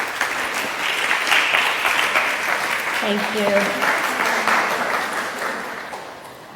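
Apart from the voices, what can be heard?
audience applause for a speaker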